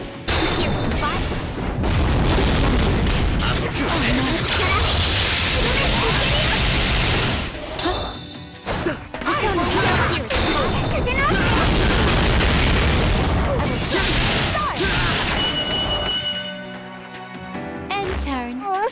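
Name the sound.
fire spell attack explosion in Xenogears video game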